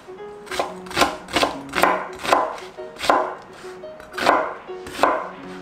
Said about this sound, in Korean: 자, 이렇게 잘게 잘라서